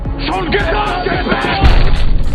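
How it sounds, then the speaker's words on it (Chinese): A single heavy, booming sniper rifle shot from a London gangster drama cracks out near the end, landing loud beneath steady spoken narration that runs throughout. "躲在暗处的狙击手却再次扣动了扳机"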